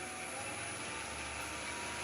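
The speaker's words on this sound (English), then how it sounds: "So lathe speed to 0 to start with. Turn the lathe up." A wood lathe motor runs steadily as it is turned up to speed for roughing down a pestle-and-mortar blank, giving a constant, even whir with no breaks and no talking.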